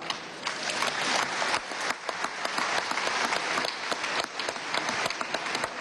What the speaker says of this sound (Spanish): todas las proclamas buenas suscitan aplausos